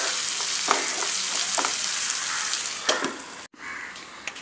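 Tomatoes and beef with potato sizzle and fry in a pan on the stove, a steady close crackle with a few louder spatters and stirring clatters, then a brief drop as the lid goes on.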